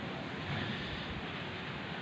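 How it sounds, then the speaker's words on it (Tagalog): A strong, cold December wind roars steadily on an outdoor microphone, dense and unbroken buffeting rumble with no voices. "Grabe yung lakas ng hangin mga katropa."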